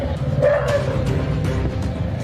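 Stray dogs bark on a town street in Bhusawal. A few short yelping barks stand out over constant loud street background noise.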